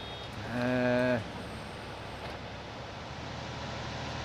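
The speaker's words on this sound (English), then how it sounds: "Trying to listen out for the beep." Reversing beeps from a vehicle in Farming Simulator 19, a short run of steady tonal beeps lasting about half a second, loud over a constant low engine and ambient hum, then only the background drone continues.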